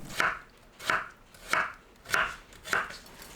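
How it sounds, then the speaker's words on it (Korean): A knife julienning cucumber on a cutting board, five evenly spaced sharp chopping knocks about half a second apart, close and clear with no voices. "채 썰어주세요"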